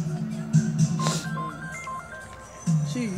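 Phone ringing indoors, with electronic ringtone tones stepping up and down in pitch under muffled background voices and noises.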